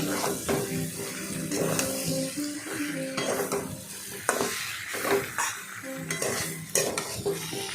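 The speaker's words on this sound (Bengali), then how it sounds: "লঙ্কার গুঁড়ো দিয়ে ভালো করে নাড়াচাড়া করলাম" Katla fish head and chili powder are stirred in a pan, a spatula repeatedly scraping and knocking against metal in an irregular rhythm over a soft sizzle, close and fairly loud.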